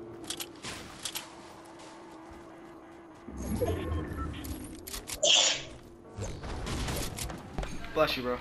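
A sharp sneeze bursts out amid Fortnite-style squad game noise, with faint background game sounds and chatter around it.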